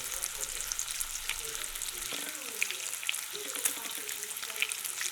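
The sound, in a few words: bacon sizzling while frying in a pan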